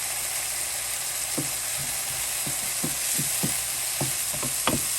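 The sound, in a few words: peppers cooking in broth in a pan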